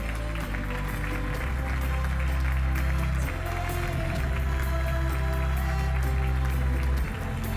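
Audience applause at a sports peace award ceremony in Monaco, continuous clapping layered over loud music with a heavy low bass line throughout.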